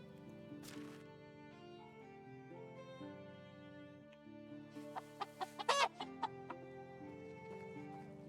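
Chickens cluck in a short burst of sharp, close calls over steady background music in the Medieval Dynasty game, while the rest stays calm and melodic.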